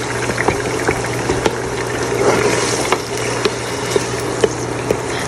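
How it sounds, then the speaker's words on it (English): Water splashes and sizzles into a pot of fish curry cooking with oil and onions, making a steady bubbling frying hiss broken by small pops and crackles, with no talk. "I'll add a bit of water now"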